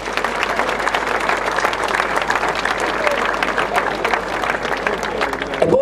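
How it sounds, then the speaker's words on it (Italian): Sustained theater audience applause at a November evening show at Teatro Mucchetti in Adro, a dense, steady roar of many hands clapping at close range, with some voices mixed in throughout. "facciamo un bel applauso a tutte queste persone"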